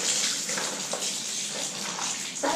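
Water pours out of a Scrubba portable wash bag after a clothes wash cycle, a continuous close gushing splash that stays steady and fairly loud throughout, with no one talking.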